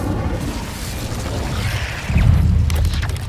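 The Incendio fire spell in Hogwarts Legacy goes off as a low rumbling whoosh that swells and holds near the end, over a dense game soundscape.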